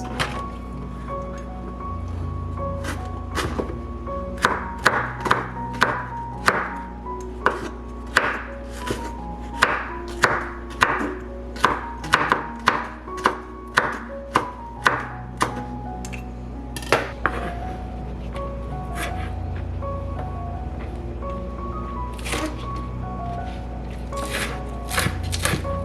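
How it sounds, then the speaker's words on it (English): A knife dices red bell peppers on a cutting board, with crisp repeated chops in quick bursts that are close and clear over steady background music, then the chopping slows and fades. "Dice these red bell peppers."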